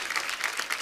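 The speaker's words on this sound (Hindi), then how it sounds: "एक बार जोरदार ताली हो जाए बड़ो लोग" A studio audience at a comedy talk show bursts into applause, a brief, bright, dense clatter of many hands clapping.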